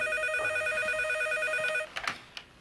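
A telephone rings with a steady electronic trill that stops suddenly, followed by a couple of short clicks and handling noises as it is picked up.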